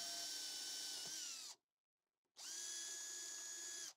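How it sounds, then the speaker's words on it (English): A power drill whirs steadily at high speed drilling a hole in a wooden base, stops for a moment, then runs again for another long burst, close up. "it's time to actually pre-drill a hole in our base"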